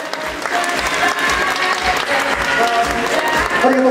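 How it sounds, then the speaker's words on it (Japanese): Loud, sustained applause from an audience at a fitness bikini championship awards ceremony in Tokyo, dense continuous clapping with crowd noise and a voice briefly audible over it. "大きな拍手をお送りください。"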